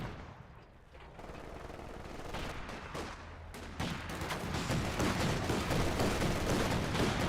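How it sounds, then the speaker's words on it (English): Grenadier squads fire their rifles in Company of Heroes 2, a dense stream of overlapping gunshots and crackling volleys that grows steadily louder and busier through the clip, heard alone with no talk. "Grenadiers now firing away, though only 5, maybe 6 models in range out of the 12."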